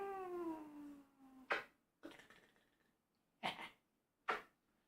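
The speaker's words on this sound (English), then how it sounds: "I got my kitty here with me" A pet cat gives a falling, drawn-out meow followed by several short, soft huffs or sniffs, close and quiet with gaps of silence between.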